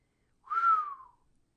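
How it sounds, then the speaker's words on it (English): One soft, long human whistle slides gently downward in pitch, a single sustained tone lasting under a second, alone against silence. "he gave a soft, long whistle"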